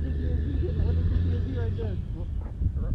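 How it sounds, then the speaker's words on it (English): Low, loud engine rumble of a Cadillac truck fills the whole clip, like a big vehicle idling nearby, with people talking over it. "the Cadillac truck's so loud."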